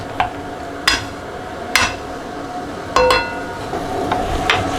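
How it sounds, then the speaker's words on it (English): Beef mince sizzles softly in a pan under a steady frying hiss, while a utensil scrapes and taps against the metal several times at irregular intervals as the meat is broken up. "All we need to do is break this mince up and start putting some colour on it."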